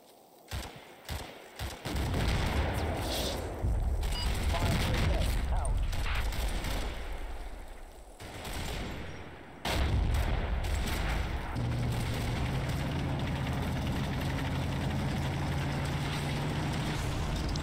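A mortar barrage of high-explosive and smoke shells in the video game Combat Mission: a few sharp separate bangs open, then a dense, continuous roar of rumbling blasts and mechanical clatter carries on loudly to the end.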